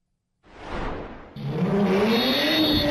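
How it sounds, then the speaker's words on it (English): During a nighttime street takeover at an intersection, a car engine roars up close, then a second louder surge of revving and tire noise follows and holds steady. "when you hear cars doing donuts in the middle of an intersection"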